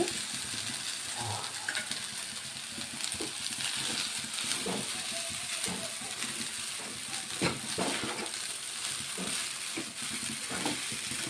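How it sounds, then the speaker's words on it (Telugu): Cooked vermicelli tossed with egg masala in a pan gives a soft steady sizzle, with scattered light scrapes and clicks from stirring throughout. "మసాలా అంతా సేమియా పట్టేటట్టు కలుపుకోవాలండి"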